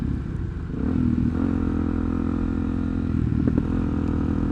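A Suzuki DRZ SM supermoto motorcycle rides off-road through a rut with a steady, close engine drone and small throttle changes, loud throughout, with a faint rattle here and there and no talking.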